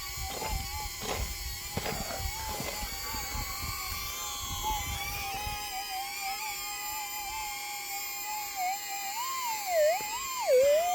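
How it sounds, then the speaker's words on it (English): A drone's propellers buzz nearby in Victoria goldfields bushland as a steady whining drone with tones that wobble and shift in pitch. It is joined early on by rhythmic thumping that later fades out. "A noisy drone beside"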